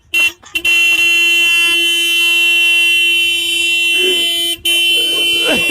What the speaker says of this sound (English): He's just honking the horn waiting for his owner.